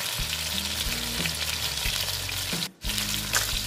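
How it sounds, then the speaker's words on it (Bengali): Pabda fish frying in hot oil in a pan, a steady close sizzle running throughout with a brief dip near the end, accompanied by low rhythmic hum or tonal background sounds. "দেখো, এই পিঠ তো হয়ে গেছে, এখন এই পিঠটা ভেজে নিই"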